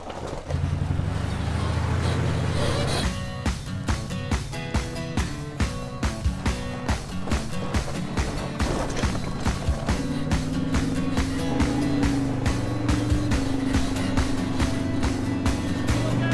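An old car called Lizzie pulls away on a dirt road out on the Arizona Strip, its engine chugging with a steady, loud rhythmic pulse and a low rumble that rises in pitch as it rolls off.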